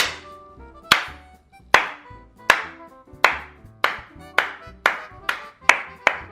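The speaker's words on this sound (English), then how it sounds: "I just slow clapped for myself." One person slow-clapping alone, eight sharp claps spaced under a second apart that speed up slightly toward the end, close and fairly loud with nothing else around them.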